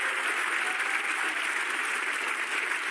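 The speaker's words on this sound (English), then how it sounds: "this warm round of applause" A snooker audience at the 2018 English Open breaks into sustained, loud applause after a 136 break, with dense clapping holding steady for the full three seconds and no voices heard.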